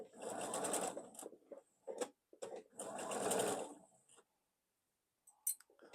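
A domestic sewing machine stitches a quilt block in two steady bursts of rapid needle chatter, running slowly and close up, separated by pauses with light clicks as pins are pulled.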